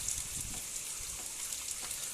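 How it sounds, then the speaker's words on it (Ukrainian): Steady morning rain pours down in the Cherkasy region, a soft, even hiss of drops on surfaces heard from outdoors at low level with no talking. "Це така Черкаська область дощі."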